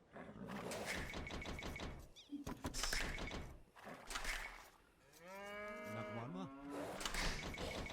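Cattle mooing in Age of Empires II during a 4v4 team game, a long drawn-out moo among busy clicks, thuds and game sounds, close and fairly loud.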